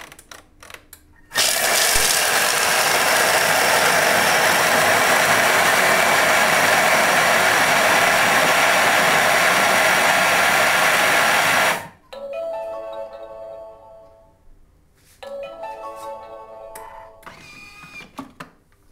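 A Thermomix TM5 spins at speed 10 while making sfouf: a loud, steady high-pitched whir for about ten seconds that stops abruptly, followed by quieter mechanical clicks and short motor bursts.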